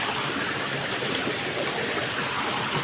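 A waterfall deep in a dense forest roars as a steady, even rush of broadband water noise that does not let up, with no voices over it.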